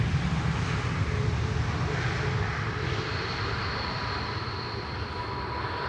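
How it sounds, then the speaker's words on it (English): Singapore Airlines cargo aircraft, likely a 747, arriving on runway 18R at Schiphol, a steady broad engine roar at moderate distance that holds level throughout, with no voices. "Singapore Airlines cargo."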